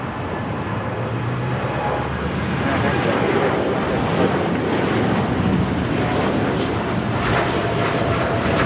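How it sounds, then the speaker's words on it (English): A Boeing 787 Dreamliner at Los Angeles airport gives off a loud, continuous jet engine roar that holds steady throughout, with wind buffeting the microphone and a voice talking faintly underneath. "That Dreamliner heading to London Heathrow."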